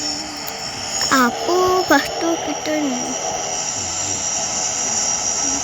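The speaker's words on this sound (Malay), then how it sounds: "Ini kapal terbang." Steady airplane engine drone from a Roblox game runs throughout, with a voice talking over it in short bursts near the start while small game tones flicker above the hum.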